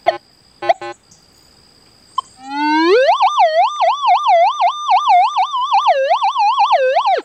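A metal detector in 15 kHz pinpoint mode sweeps over a buried nail: a few short beeps, then a loud continuous tone that wobbles up and down in pitch in quick repeated waves.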